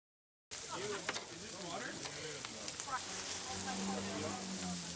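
Sausages sizzle and crackle on a hot Argentine barbecue grill, a steady loud frying hiss that starts abruptly and carries on, with a voice speaking over it.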